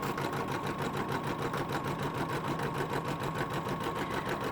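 An embroidery machine sews the placement line for an in-the-hoop notebook cover, a close, steady, rapid rhythmic stitching drone that holds at even loudness throughout.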